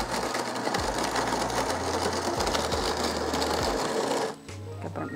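DeLonghi TrueBrew coffee machine brewing espresso, a loud, close mechanical whirring and pumping hum with rhythmic pulses that drops to a quieter drone near the end.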